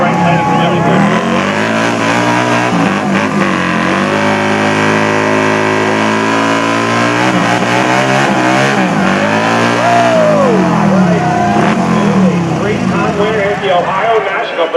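A race car is doing a celebratory burnout after a victory lap, a loud, sustained engine roar that rises and falls in pitch as it revs. A voice speaks over it throughout.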